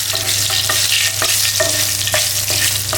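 Dried red chillies and chopped onion frying in oil in a pan while being stirred, a loud continuous sizzle broken by repeated scraping strokes of a spoon at a steady rhythm.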